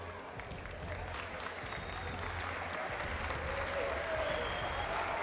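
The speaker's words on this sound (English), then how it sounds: "the Argentine gets the applause from the Brazilian fans" Brazilian fans in an arena applaud the Argentine fighter Emmanuel Zambrano after his bout with José Aldo, steady massed clapping and crowd noise heard at a distance, continuous and fairly even.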